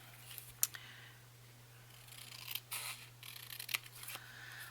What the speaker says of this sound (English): I'll just cut me another one here.